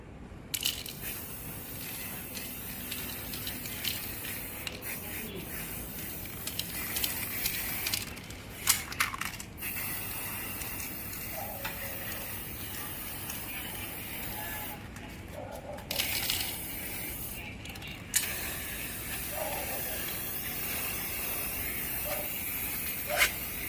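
Black spray paint hisses from an aerosol can in repeated bursts of varying length, fairly close, with short pauses between sprays and no talk.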